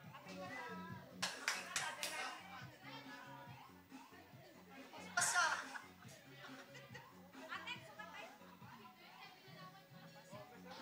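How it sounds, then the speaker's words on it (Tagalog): An audience claps at a Thanksgiving party celebration in Dingras, a short burst of clapping mixed with laughter and chatter, with children's voices and talking around it, fairly faint overall. "Palakpak apo."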